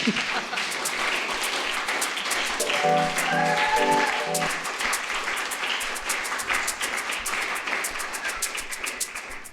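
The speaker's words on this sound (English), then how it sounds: "That's the part where you clap." Dense, sustained audience applause at a live spoken-word poetry performance, loud and steady for the whole stretch, with a faint electronic beat briefly rising underneath midway.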